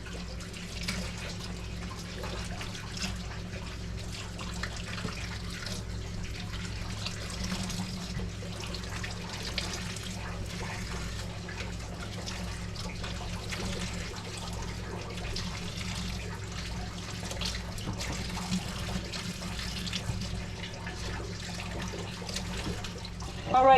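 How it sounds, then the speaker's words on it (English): Tomatoes being washed under a running kitchen tap, a steady, moderately quiet trickle and splash of water that continues unbroken for the whole stretch. "So I'm washing up all these tomatoes and putting them in my juicer."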